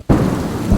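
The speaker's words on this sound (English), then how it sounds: "lightning struck the church" A lightning strike on a church sets off a sudden loud thunder crack amid a rainstorm, booming and rumbling close by, then a second burst.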